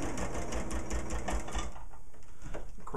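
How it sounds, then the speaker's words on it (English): Sewing machine stitching the binding seam of a kite, a fast, steady mechanical whir with a rhythmic needle chatter, close and continuous before easing slightly near the end. "now we're just going to sew the length of this seam and close up the kite"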